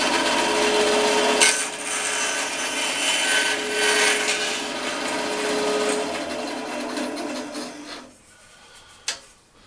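Small square of wood pushed through a table saw against the fence, a steady loud whining cut with a droning motor tone that cuts off near the end, followed by a single sharp knock.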